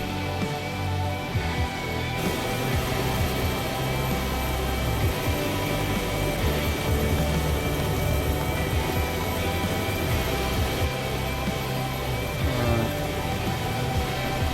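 A helicopter taking off in the video game DayZ, its rotor and engine roaring as a dense, steady drone that stays loud and close throughout.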